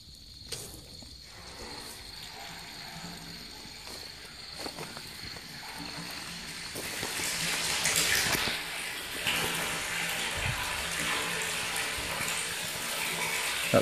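Water running into a tank of a shipping container house, a faint hiss and trickle that swells into a stronger gushing flow partway through, with some clunks and knocks.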